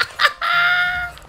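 Chickens (Cuccos) in Zelda: Breath of the Wild squawk and cluck, two short sharp bursts followed by one long sustained shrill cry, loud and close with a low hum beneath.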